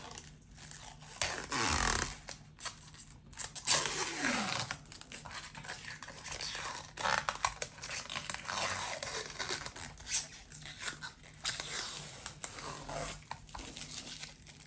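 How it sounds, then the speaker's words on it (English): Protective plastic film is slowly peeled off a new guitar pickguard, a crinkly tearing rustle that rises and falls in several pulls, with faint scattered handling noise. "the most satisfying part of any new pick guard is peeling it off"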